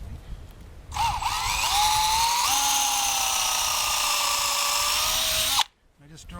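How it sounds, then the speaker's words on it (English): An electric drill bores through a wooden pole for a portable round house frame. It gives a loud, steady high whine for about five seconds, close up and alone, then cuts off abruptly. "Now I'm going to drill through."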